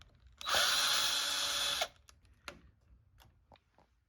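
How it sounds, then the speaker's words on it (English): A power drill or electric screwdriver backs out a screw from the side of a Kwikset doorknob lock, one steady whirring burst of about a second and a half, followed by a few faint clicks and taps. "Simply unscrew the sides of your lock"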